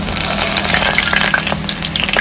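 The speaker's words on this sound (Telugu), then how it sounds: "హై ఫ్లేమ్లోనే పెట్టుకొని ఈ బ్రౌన్ కలర్ వచ్చే వరకు ఆనియన్ని ఫ్రై చేసుకుందాం" Onions frying in oil over a high flame for biryani, a loud, close, continuous sizzle with crackling pops throughout.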